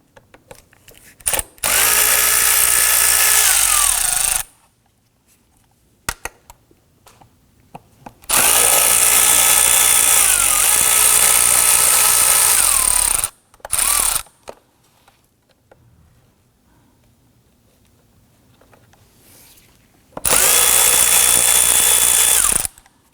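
A cordless power driver loosens T25 Torx screws on the air filter housing of a 2003-2014 Volvo XC90, three loud whirring bursts of several seconds each with quiet pauses and small clicks between.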